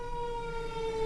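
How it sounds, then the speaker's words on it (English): Fire truck sirens passing nearby, a loud sustained wailing tone held steady and clear, with no talk over it. "so excuse the sirens"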